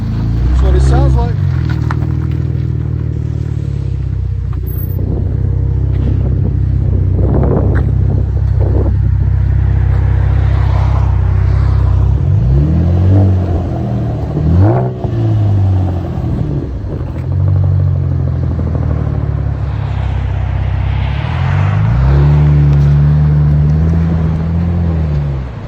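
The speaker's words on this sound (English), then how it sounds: "Chevy Camaro V6 Rev 9 exhaust. That's what it sounds like." A Chevy Camaro with a 3.6L V6 and Rev 9 exhaust idles with a deep, loud rumble, then revs in several sharp rising and falling bursts, with voices talking over parts of it.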